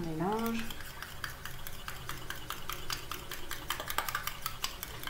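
A homemade anti-itch cream mixture with chamomile and lavender essential oils being stirred, a steady run of light scraping and clinking strokes of a utensil against a container. It is quiet and close, and a brief voice is heard at the start.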